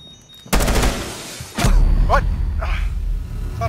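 Gunfire in Rainbow Six Siege, a loud burst of rapid shots followed by a second heavy volley and booming thuds, close and dense, with faint voice-like sounds briefly mixed in.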